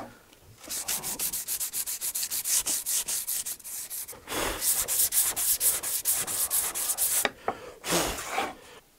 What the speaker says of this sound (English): I'm going to start sanding it. I think I'm going to use a 220 grit